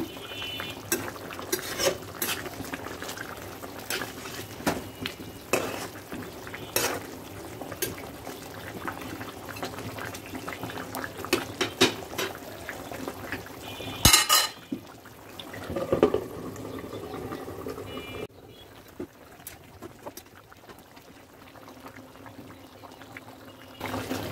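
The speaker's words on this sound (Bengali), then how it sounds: "আমরা একটু ঢাকনা উঠিয়ে চিকেনটাকে নেড়ে দিব।" Chicken stirred in a pot after the lid comes off, with clanks, scrapes and wet bubbling from the cooking liquid, a sharp metallic clatter midway, then quieter simmering toward the end.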